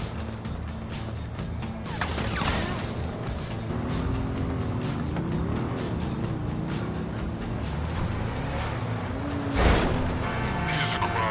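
Engine drone of a car driving in GTA 5 Online, a steady low rumble with shifting revs and pitch, a brief sharp impact near the end, with game chatter mixed in.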